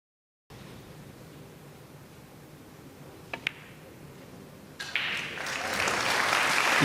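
A crowd at a European Open pool championship match breaking into applause, starting after a quiet stretch with a couple of sharp knocks, then swelling into steady clapping near the end.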